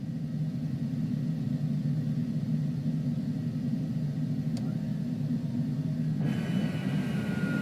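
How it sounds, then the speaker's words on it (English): Landing gear of a Cessna Longitude business jet lowering in Microsoft Flight Simulator 2020, a steady low cockpit rumble that swells with added airflow noise near the end. "let's put our landing gear down"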